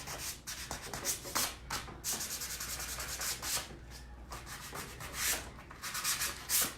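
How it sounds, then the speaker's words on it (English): Sandpaper rubs back and forth over painted wood, knocking down blue paint to raw spots in steady, scratchy strokes, close and continuous with no talking. "I'm gonna really sand this and make me some raw spots"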